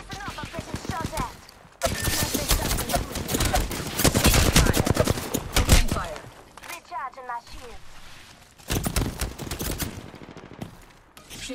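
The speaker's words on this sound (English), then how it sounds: "Listen up, I'm getting shot at." Rapid bursts of automatic gunfire in a shooter video game crackle loudly in dense volleys, pausing briefly and resuming, with a voice talking intermittently over the shooting.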